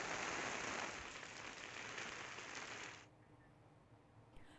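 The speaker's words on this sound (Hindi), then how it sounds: "झमाझम बारिश" Heavy monsoon rain in Uttarakhand pours as a dense, steady hiss for about three seconds, then cuts off abruptly, leaving quiet background.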